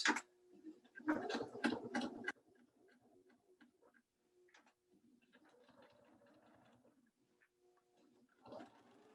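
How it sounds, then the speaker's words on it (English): A sewing machine backstitches over a quilt seam join on a Christmas throw pillow, a quick burst of rapid stitching followed by quieter intermittent whirring and ticks, with a short burst near the end. "So I'm going to backstitch to reinforce that."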